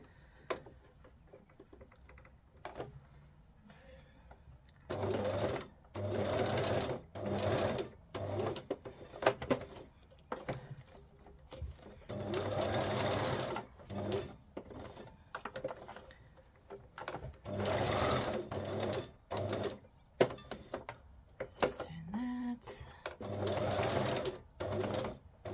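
A sewing machine runs a straight stitch through fabric scraps in repeated close, loud bursts of rapid mechanical chatter, separated by short pauses and quiet handling sounds.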